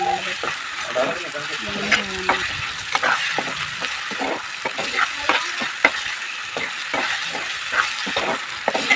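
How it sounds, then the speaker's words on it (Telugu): Masala for a dhaba-style paneer curry frying in oil in a pan, a loud continuous sizzle with quick repeated scraping strokes of a spoon, close up and alone without talk. "ఇంకా ఫ్రై అవుతా ఉంది ఇంకా వేగుతూ ఉందన్నమాట"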